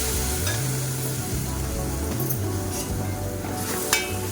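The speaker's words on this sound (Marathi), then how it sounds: "थोडीशी परतून घेऊया मसाल्यामध्ये" Soaked kurdai, a rice-flour noodle, stirred through spiced masala in a hot pan, with a steady close sizzle, soft scraping stirs and a brief clink of a utensil near the end.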